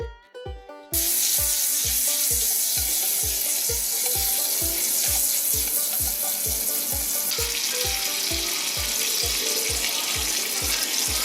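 Small piece of squirrel meat sizzling and frying in a pan, a steady loud crackle and hiss that goes on throughout, with a rhythmic low thumping beat underneath.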